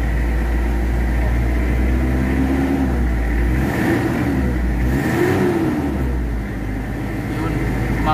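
Toyota 2L diesel engine revving after a loss of compression, with black smoke, low power and throttle delay, its loud steady rumble rising and falling through the rpm range, with a voice heard faintly underneath.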